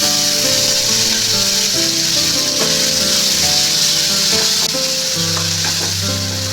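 Onion fries in a pan of oil for a Bengali hilsa fish and mango dish, a loud, continuous sizzle with scraping and stirring, alongside steady tonal hum from the kitchen, with no speech.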